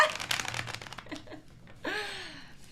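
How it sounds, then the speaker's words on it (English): Tarot cards are shuffled in a quick run of crisp riffling clicks close by, followed by a brief voiced sound and laughter near the end. "Last shuffle."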